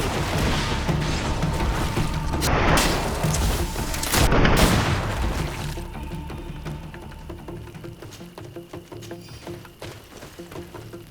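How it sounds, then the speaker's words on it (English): Grenade explosions in the video game GreedFall: two loud, heavy booms arrive a couple of seconds apart over a dense, rumbling battle din, which then fades to a quieter, crackling aftermath. "Watch out! Grenade!"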